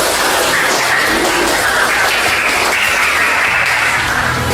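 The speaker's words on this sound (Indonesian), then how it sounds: "beri aplaus untuk kelompok 1" Steady, dense applause from a classroom audience after a student group finishes its discussion presentation, loud and continuous without pause.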